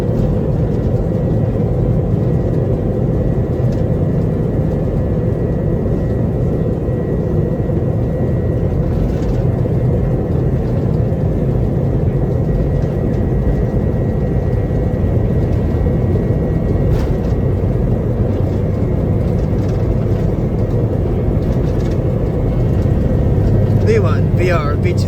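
JetBlue airliner jet engines at takeoff power give a loud, steady, broadband roar that holds for the whole stretch, with faint voices underneath.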